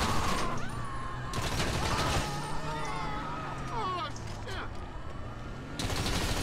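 Gunfire in Grand Theft Auto V: bursts of shots at the start and end frame a stretch of game noise with wailing siren tones between them. The shots are mid-level and a voice talks faintly underneath.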